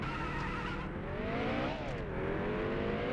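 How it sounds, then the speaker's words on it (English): A race car in NASCAR Heat Evolution starts and rolls out of the clutch, its engine droning steadily with a rising and falling pitch sweep, loud and continuous with a harsh tire-squeal edge. "get the car started. I'm putting it into gear, and you can see I can just roll out of the clutch"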